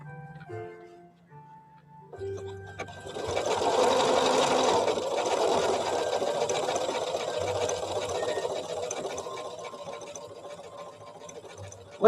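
A Janome Memory Craft 7700 QCP computerized sewing machine hums into a steady, fast stitching run after a few faint beeps and taps, sustained and close in a quiet workshop.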